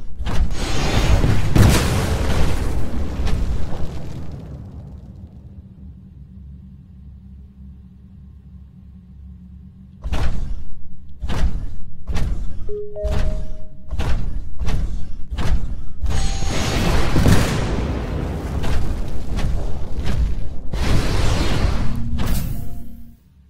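Rockets explode in the Titanfall video game, with a loud booming blast that rumbles away, then a quick series of sharp thudding impacts and another heavy burst of explosions nearby.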